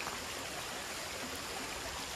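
Mountain stream water flows in a steady, soft rush over rocks in a hillside setting during the rainy season, a constant wash of noise with no voices.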